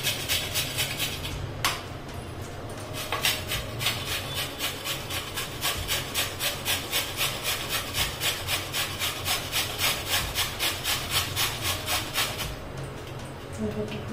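Radish for paratha is rubbed over a hand grater, making a rapid rhythmic scraping stroke after stroke at close range that runs steadily for over ten seconds, faint and without talk.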